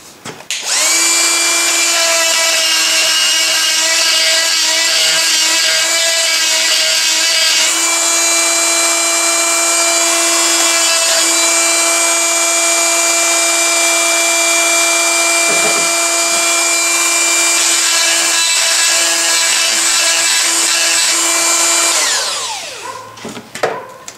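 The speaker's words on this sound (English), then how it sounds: "Just going to give this a little deburr in here." A lathe turning a hub while it is deburred, a loud steady tonal whine with strong harmonics that runs unbroken for over twenty seconds, briefly shifting in texture partway, then spins down and stops at the end.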